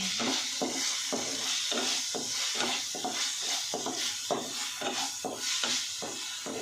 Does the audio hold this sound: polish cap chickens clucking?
no